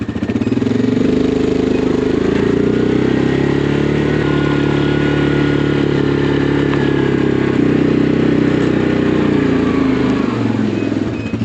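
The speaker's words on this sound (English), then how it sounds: "the quad doesn't have enough traction to get up the hill" A quad ATV engine labours up a hill without enough traction, a loud, close, steady drone with rattling clatter rising and easing slightly over about eleven seconds.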